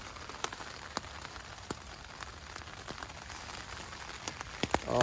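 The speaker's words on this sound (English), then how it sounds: "Oh, it's raining if you can't tell." Rain patters on a tent on the Appalachian Trail, a steady wash of drops with scattered louder individual hits, heard from inside and growing slightly heavier toward the end.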